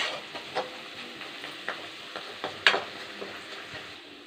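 Garlic and curry leaves fry in oil until golden brown for karuvadu thokku, a faint, steady sizzle punctuated by soft, regular stirring taps and one sharper clink of a spoon on the pan.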